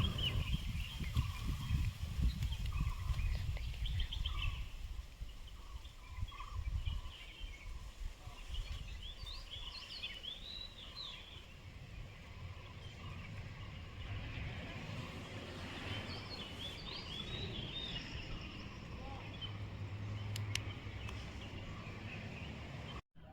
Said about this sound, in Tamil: போகிற வழியில் அந்த காட்டுக்குள்ளே அந்த பறவைங்களோட சத்தம் செம்மையாக இருந்துச்சுங்க